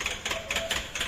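BS6 motorcycle with an AdBlue system and a broken silencer making a strange rattle: quick, evenly spaced metallic clicks repeating about four times a second, close and fairly quiet, with no voices.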